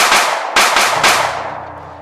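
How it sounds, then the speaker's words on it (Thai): A loud burst of several gunshots fired in quick succession inside a gambling den, close and harsh, the blasts blurring together and then fading into a lingering echo. "ภายในบ่อนก็เกิดเสียงปืนดังสนั่นขึ้นหลายนัด"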